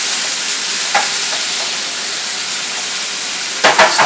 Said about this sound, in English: I'll let this cook up for a little bit. It's just steak pieces